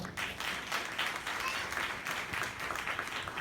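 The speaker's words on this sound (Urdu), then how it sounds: "زوردار تالیاں" Congregation at a Sunday church service breaking into sustained, dense applause that stays even and moderately loud for the whole stretch, with no talking over it.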